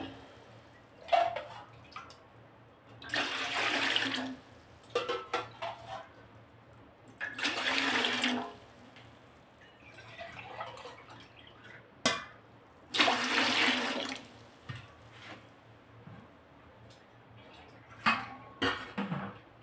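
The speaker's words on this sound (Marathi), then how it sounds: "पाणी टाकून घेते या पातेल्यात।" Water poured from a small metal pot into a larger cooking pot in three separate splashing bursts with quiet gaps between, close and fairly loud, set to heat for making bajra kharodya.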